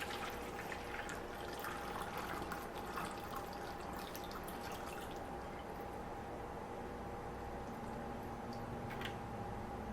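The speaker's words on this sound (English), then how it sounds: "I just take a funnel, put it inside the spray bottle, and like I said, over the sink I do this. And gently just pour that in." Black rice water poured gently through a funnel into a spray bottle over a sink gives a continuous, soft trickling and bubbling that runs for several seconds, close and quiet.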